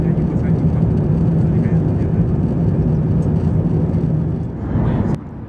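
Steady, loud broadband roar inside the economy cabin of a Cathay Pacific Airbus A350-900 cruising over southern Vietnam toward Singapore, continuous engine and airflow drone with a slight dip and a brief click near the end.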